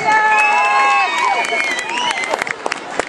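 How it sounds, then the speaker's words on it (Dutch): Audience at a regional music award show applauding and cheering for the winning rap group, a dense burst of clapping with shouts and whistles that thins out toward the end. "Geef ze een groot applaus."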